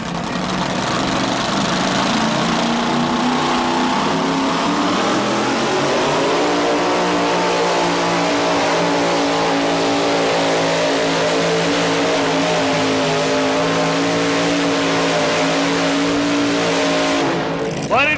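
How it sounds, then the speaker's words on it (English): A one-of-a-kind pulling vehicle, the Dollar Devil 2, roars loudly and steadily at a 1987 indoor tractor and truck pulling event in Louisville, Kentucky, its engine revving and climbing in pitch before holding a sustained, droning howl. "another one-of-a-kind pulling vehicle, the Dollar Devil 2"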